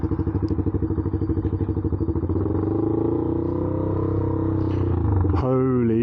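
Motorcycle running with its slip-on exhaust fallen off: a loud, raw, close engine idle that starts as a rapid lumpy pulsing, then steadies into a harsh drone and revs up near the end, with someone talking over it.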